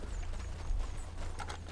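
Horse hooves clopping in the Western game Red Dead RP, a steady, fairly close clip-clop rhythm of a horse on the move, with faint background noise and no clear talk.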